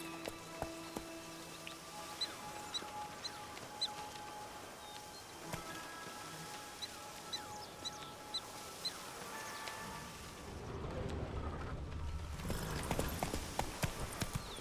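Horse hooves clip-clop in The Witcher 3 over a quiet game soundscape, faint regular hoofbeats with small chirps and clicks, a louder rushing burst of game noise near the end.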